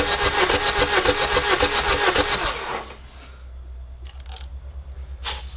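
A Chevy Cruze diesel engine cranks over during a compression test, with a loud, rhythmic pulsing of each stroke for about three seconds before stopping, followed by quiet with a few faint clicks.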